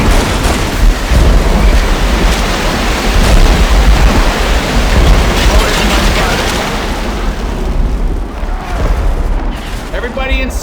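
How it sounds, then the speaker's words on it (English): A thunderstorm in the Halo video game: a loud, dense, continuous roar of rain and rumbling thunder that fills the whole stretch and eases slightly toward the end. "Storm coming!"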